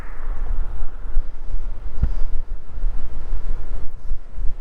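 Rough, gusty wind noise buffets the microphone while riding an AIMA Santa Monica e-bike outdoors, a loud low rumble that rises and dips continuously, with one brief thump midway.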